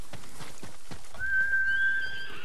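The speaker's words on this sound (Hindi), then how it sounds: "Horse." Horse in Ghost of Tsushima gives a long high whinny after a few hoof clops, moderately loud over steady game background noise.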